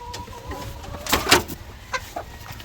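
Blue Orpington hens on a farm give a few short, soft clucks over a quiet background, with one brief louder burst in the middle.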